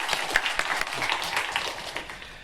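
A church congregation claps together in a short burst of applause, moderately loud and fairly even, fading slightly toward the end with no talk over it.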